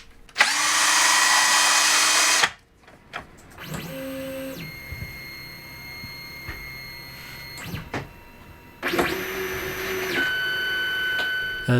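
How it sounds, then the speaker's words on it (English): Drill-driven CNC linear actuator with an SFU1605 ball screw and HGR15 rail guides, moving a plate at about 1600 RPM: a loud whirring burst, then quieter whining runs that start and stop, ending with another strong whir. "I'm moving the plate at the full speed of the drill, which is around 1600 RPM."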